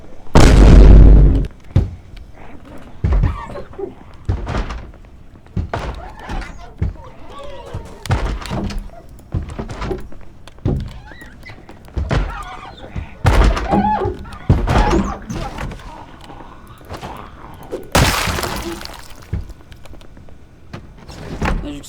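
Zombies banging on a building door in the Project Zomboid video game: repeated heavy thunks and slams, some loud and close, scattered irregularly through ongoing talk.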